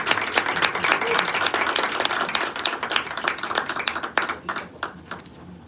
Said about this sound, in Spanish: Entonces, le damos un aplauso a Isabel.